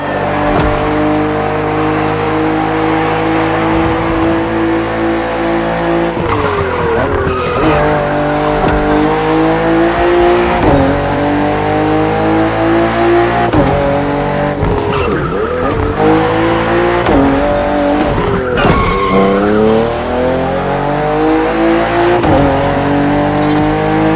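A BMW M CSL in The Crew Motorfest racing game roars through hard acceleration with loud, continuous engine noise and rising pitch sweeps at each gear shift, plus tire squeal.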